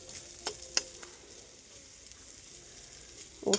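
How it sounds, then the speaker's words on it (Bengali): Flat beans frying in a pan in a home kitchen, a quiet steady sizzle broken by a few sharp utensil clicks and a scrape near the end. "তো দেখুন ছিম ভাজাটা ভাজছি"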